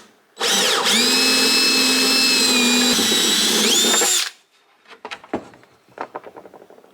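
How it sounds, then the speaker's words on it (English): A power drill whines loudly and steadily for about four seconds boring through plastic for a chicken waterer, then cuts off, followed by scattered clicks and plastic rattling. "We got to find another drill bit."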